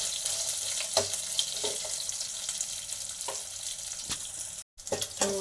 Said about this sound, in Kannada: ಈರುಳ್ಳಿ ಆ್ಯಡ್ ಮಾಡ್ತಾಯಿದ್ದೀನಿ. ಸೊ ಈರುಳ್ಳಿ ಸ್ವಲ್ಪ ಫ್ರೈ ಆಗಲಿ.